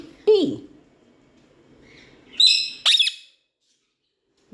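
A peacock calls in a home setting: a short squawk, then two loud, high, piercing cries close by, over a faint background murmur.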